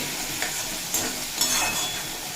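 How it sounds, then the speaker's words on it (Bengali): Ginger, garlic and green chilli paste frying in hot oil in a home kitchen, a steady close sizzle with a few louder bursts as it is stirred. "আদা রসুনের কাঁচা গন্ধটা চলে যাওয়া পর্যন্ত ভেজে নেব"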